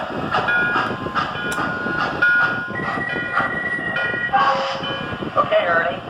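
Museum trains moving along the tracks at the Strasburg rail yard, with clattering, squealing wheels and hissing under intermittent voices talking nearby.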